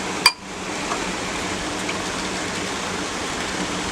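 Water pours into a cooking pot for kadha, a herbal drink, as a steady splashing rush that follows one sharp click at the start.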